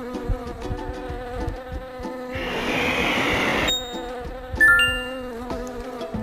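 A dense, steady buzzing of bees in a dentist simulation video game swells up over a bright, bouncy game tune for about a second, then cuts off as the music continues.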